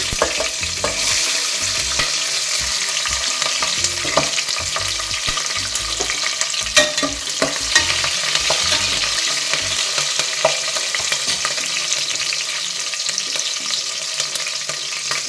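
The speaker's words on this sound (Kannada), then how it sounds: "ಈಗ ಮೆಣಸಿನ್ಕಾಯಿ ಸೇರಿಸ್ಕೊಳ್ತಾ ಇದ್ದೀನಿ." Green chillies fry in hot oil in a pan for white chicken biryani, a loud steady sizzle running throughout with scraping stirring strokes and occasional clinks of a spatula, close up and without speech.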